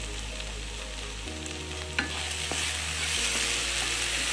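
Finely chopped vegetables for rava kichadi stirred and sautéed in a pan, a close, steady frying sizzle with scraping stir strokes and a sharper clink midway.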